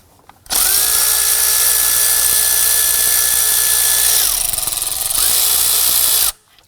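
A power tool whirs steadily for about four seconds while loosening 10mm bolts on a 2003-2014 Volvo XC90 engine near the serpentine belt tensioner, then winds down briefly before a second loud burst; close and loud.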